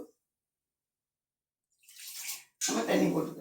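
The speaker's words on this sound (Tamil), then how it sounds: "நம்ம தண்ணி போட்டுக்கலாம்." Water runs into a cooking pot for drumstick curry in a home kitchen, first a short splash and then a heavier steady pour, loud and near.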